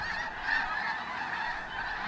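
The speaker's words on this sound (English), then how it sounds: "There were thousands upon thousands of snow geese." A huge flock of snow geese honks in a dense, continuous chorus, heard from some distance as a steady overlapping clamor with no voices.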